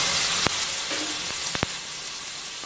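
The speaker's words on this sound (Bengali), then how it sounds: "ফোড়নটা তেলের মধ্যে ভালোভাবে একটু ভেজে নেব। এবার এর মধ্যে দিয়ে দেব টমেটো বাটা" Whole spices frying in oil for Bengali-style aloor dum, then tomato paste going in, a loud continuous sizzle with a few sharp ladle taps, close by.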